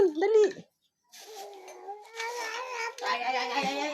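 A cat gives a loud, drawn-out meow up close, goes quiet for a moment, then lets out a string of wavering, whiny meows.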